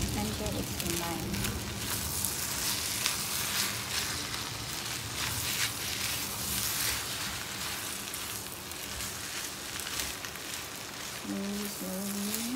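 Fried rice sizzles steadily in a pan while it is stirred, a continuous crackling hiss that lasts the whole time.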